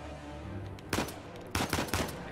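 Two quick three-round bursts from a weapon in the video game Uncharted 4, sharp and close, separated by a short gap over a steady game background.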